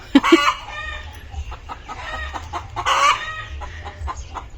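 Nearby chickens cluck and squawk in sharp, repeated bursts, with a louder cluster at the start and another around the middle, over a low background rumble.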